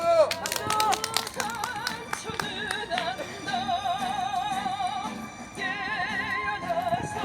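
Crowd at an outdoor residents' rally in front of a city hall claps briefly and unevenly, with loud tonal chanting or amplified voices and sirens layered over the clapping.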